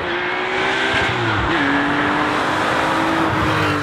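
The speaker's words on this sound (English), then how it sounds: "My favorite part about the RS has got to be the sound of the motor" A loud, steady engine note from a Porsche 911 2.7 RS with sport exhaust, harsh exhaust rasp, shifting pitch slightly as the revs rise and fall, with no one speaking.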